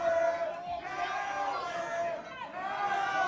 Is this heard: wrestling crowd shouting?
yes